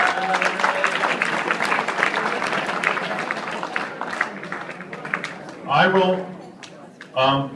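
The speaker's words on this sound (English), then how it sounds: "So I would like to give the guys a little applause." A crowd at a girls' bowling team event claps together in steady applause that lasts several seconds, with talk over it toward the end.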